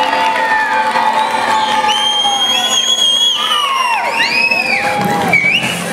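A crowd at an outdoor town promenade event in Onesti cheers for the DJ with loud whoops, high shouts and children yelling, a lively sustained roar of voices.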